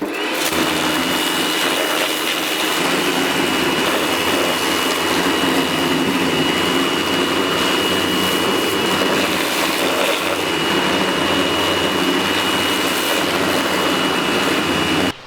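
A pressure washer cleans a fuel tank inside and out, producing a loud, continuous hissing roar with a steady motor drone that runs unbroken for the whole stretch.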